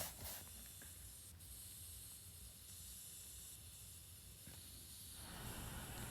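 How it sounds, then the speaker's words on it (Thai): Spray paint hissing onto a wall in the Roblox video game, a long, steady, airy hiss that runs almost without a break and fades slightly near the end. "ก็เกี่ยวกับให้เราฉีดสีบนกำแพง"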